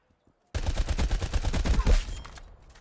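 Rapid assault rifle fire in the video game Black Ops Cold War, a loud sustained burst of evenly spaced shots lasting about a second and a half before trailing off into echo.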